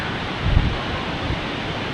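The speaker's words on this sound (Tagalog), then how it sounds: "Taas ang hangin." Strong typhoon wind roars as a steady broadband rush for the full two seconds, swelling in a brief louder gust near the middle, with no voices over it.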